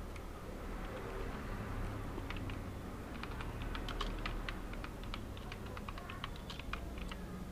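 Someone types on a computer keyboard, entering text into a PowerPoint slide, with quick irregular clicks that come in bursts, close and quiet over a faint steady hum.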